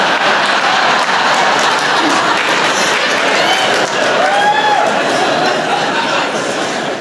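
Stand-up comedy crowd breaks into a loud applause break, dense clapping mixed with laughter and chatter, steady throughout with a voice briefly audible.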